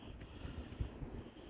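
Gusty wind buffets the microphone with low rumbling thumps, one stronger gust near the middle, steady and fairly quiet overall.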